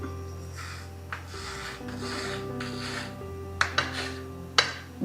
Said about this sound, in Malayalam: അപ്പം ഇത് ഇതേപോലെ നീളത്തിൽ കട്ട് ചെയ്യാം.